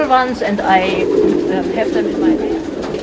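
Close, throaty coos from pigeons on a Berlin station platform rise and fall, with a voice speaking over the cooing.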